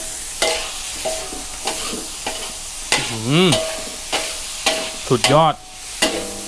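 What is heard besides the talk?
stir-frying squid for basil stir-fry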